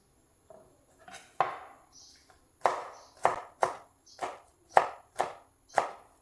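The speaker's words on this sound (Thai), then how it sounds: "เดี๋ยวหั่นพริกดิบไปด้วยนะครับพริกดิบ" A knife chops fresh homegrown green chili peppers on a cutting board with about eight sharp, crisp, close knocks at an uneven, unhurried pace, alone in a quiet room.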